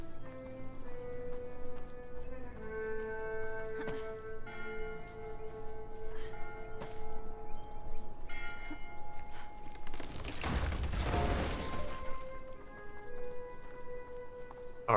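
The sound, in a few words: bell tower bell breaking in video game Bramble: The Mountain King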